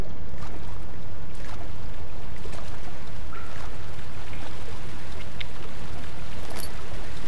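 Loud, continuous splashing and rushing of water in Amnesia: The Dark Descent, a dense wash with scattered sharper drops throughout.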